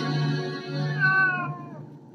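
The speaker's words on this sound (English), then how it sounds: "Stop looking at me, you fucking cat!" A cat gives one drawn-out meow, loud and close, lasting about two seconds and rising then falling in pitch, with no other voices.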